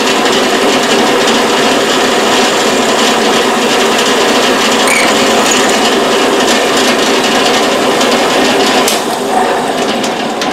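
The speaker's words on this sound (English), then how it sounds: "we're going to drill a hole right here in the end of this arm" A power drill bores a hole through the end of a metal arm, a loud, steady grinding whir that holds for the full length with slight roughness near the end.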